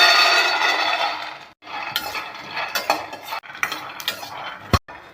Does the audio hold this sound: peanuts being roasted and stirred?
yes